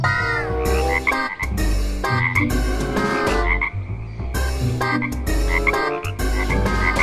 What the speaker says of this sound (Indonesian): Wih, lihat seekor katak.